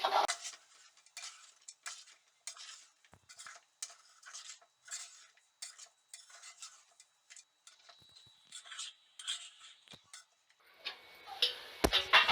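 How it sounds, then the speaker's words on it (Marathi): A spatula stirs flattened-rice poha for Kolhapuri kanda poha in a pan, making steady rhythmic light clinks and scrapes that repeat quickly for the whole stretch, fairly quiet, with no talking. "हे पोहे खालतून वरतीपर्यंत चांगले हलवून घ्यायचे आहेत"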